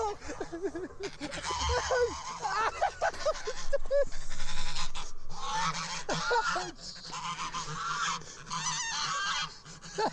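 An angry goose honks repeatedly, harsh nasal calls in uneven bursts, fairly close and loud, with some bleating, squawking cries mixed in throughout.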